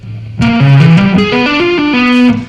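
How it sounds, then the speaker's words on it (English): An electric guitar with a distorted effects tone plays a fast string-skipping tapping lick, a quick run of clear ringing notes stepping up and down in pitch, loud and close, heard alone. "This is one of my favorite string skipping tapping licks"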